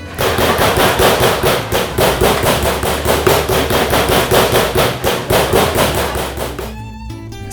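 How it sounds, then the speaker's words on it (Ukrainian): Electric meat tenderizing machine pounding meat in a kitchen, a loud, rapid, steady mechanical hammering that runs continuously for several seconds, then cuts off into near silence. "Розпочнемо з відбивання м'яса. Спеціальний агрегат, і починаємо трошки шуміти, лякати сусідів зранку."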